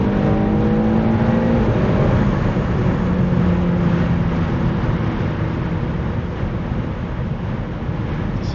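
A BMW X6M engine revs hard with its Valvetronic Designs valved sport exhaust open, giving a loud, continuous roar with rising and falling harmonic tones, close up and alone, with wind buffeting throughout.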